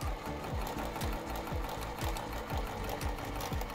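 A sewing machine top stitches a pencil case seam, its motor whirring steadily with a regular rhythmic thump of the needle about twice per second, close and even throughout.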